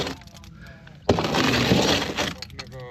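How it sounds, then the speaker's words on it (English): A handheld scraper grinds oysters off the damaged hull of the boat SeaWych during dismantling: a loud, rough, crunching scrape lasting about a second, with quieter talk before and after. "This does a wonderful job of scraping down."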